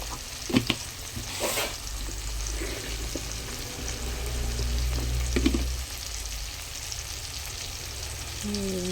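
Spices and salt frying in a pan, a steady close sizzle with a low hum beneath, a few sharp clinks and scrapes of stirring, and no voices.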